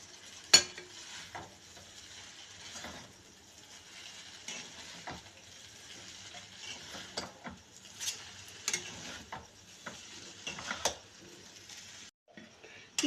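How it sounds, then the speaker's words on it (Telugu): Homemade noodles stirred in a pan, with a steady light sizzle under repeated scraping clinks and sharp knocks of the utensil against the pan, close and fairly quiet. "మళ్ళీ ఒకసారి కలుపుకుంటాం."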